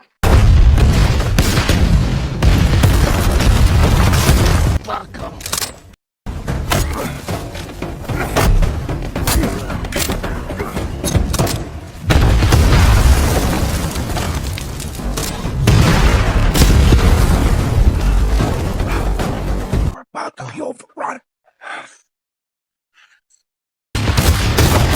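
Massive bomb explosions in a film's forest scene roar in long, rumbling bursts with deep booms and debris noise, broken by brief silences and ending in near quiet.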